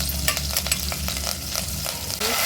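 Onion, green chilli and curry leaves sizzle in a hot tempering for soup, a steady close crackle broken by the short scrapes of stirring, with no talk.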